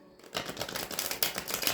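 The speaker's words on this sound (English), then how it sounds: "Two more butterfly shuffles, Taurus, and we will begin your reading." A Phantom Wise tarot deck is butterfly shuffled close up, a rapid dense riffling patter that starts suddenly after a brief silence and carries on steadily.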